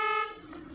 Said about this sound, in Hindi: अब हॉर्न मत बजाओ